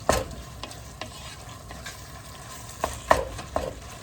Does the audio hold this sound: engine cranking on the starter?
no